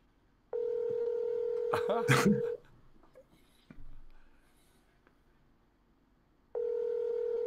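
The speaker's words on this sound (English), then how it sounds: "5216. Dial speaker. Please answer." Telephone keypad dialing on a speakerphone produces steady electronic tones at the start and again near the end, with a voice and some handling noise in between.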